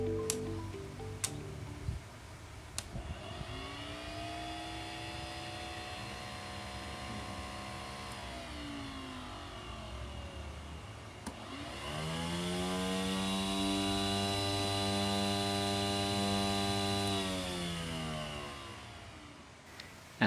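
A multi-function table saw motor runs at 12 volts and then at 18 volts, a steady whining hum that stops and restarts louder and higher-pitched for the faster speed, with no talk over it.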